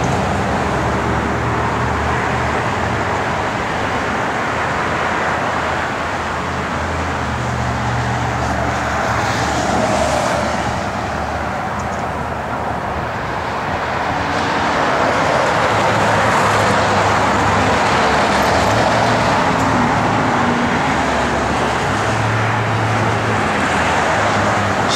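A 1973 Plymouth Cuda's 440 V8 with a 4-speed manual drones steadily while driving, with road and traffic noise throughout, a continuous low rumble that swells slightly partway through.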